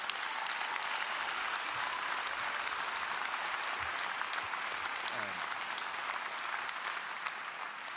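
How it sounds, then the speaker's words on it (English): Steady, full applause from a large audience at a DCU autumn graduation ceremony, a continuous roar of clapping lasting the whole stretch with a faint voice briefly underneath. "So can I ask you please to give all your supporters a huge round of applause."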